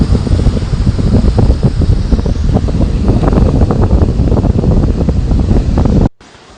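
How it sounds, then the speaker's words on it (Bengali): Sea waves break along the rocky coast of Dona Paula in South Goa, a loud continuous surging wash heavily buffeted by wind on the microphone, cutting off abruptly near the end. "জলের ঢেউয়ে ধাক্কার আওয়াজটাও খতরনাক।"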